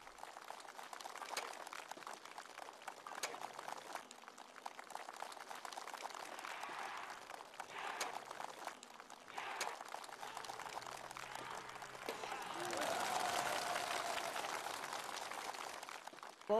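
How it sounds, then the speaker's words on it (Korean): Spectators applaud soldiers breaking bricks at a military demonstration, a sustained wash of distant clapping that swells louder near the end, heard from afar with no clear speech. "관중들은 열광적인 박수를 보내고 있습니다"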